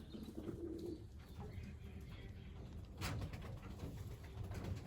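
Pigeons in a loft coo softly in low, rolling calls, faint and somewhat distant over a steady background murmur, with no one speaking.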